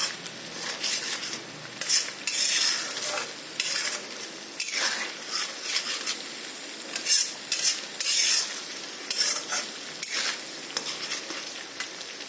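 Spice paste cooks in oil for a boal fish curry, sizzling steadily while a metal spoon stirs and scrapes the pan in repeated bursts, close and moderately loud with no speech.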